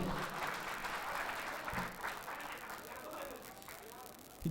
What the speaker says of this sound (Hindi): आप हज़रात एक बार तालियों से उनका इस्तकबाल करें